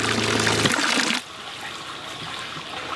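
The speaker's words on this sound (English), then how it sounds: "we've now got water coming out of the pump. You see there, it's a fairly decent stream, a bit of pressure to it." Water from a 12V pump on an off-grid caravan setup streams out with a loud, steady rushing splash, then drops abruptly about a second in to a quieter, continuous trickle.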